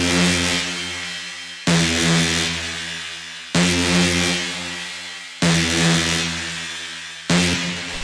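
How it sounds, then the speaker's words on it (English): Simple electronic lead bass synth playing long sustained notes, about four even phrases with sharp attacks that slowly fade, loud and alone with no voices. "Then we have the main lead / bass synth, which sounds like this."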